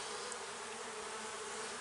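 Honey bees buzz on a hive frame during an early spring inspection, a dense, steady, close droning hum with no break.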